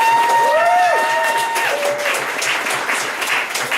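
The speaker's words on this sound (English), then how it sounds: "Okay, one final round of applause for our three panelists." An audience applauds three panelists at the close of a labour union discussion event, a steady moderately loud round of clapping with a few high tonal squeals from a microphone at the start.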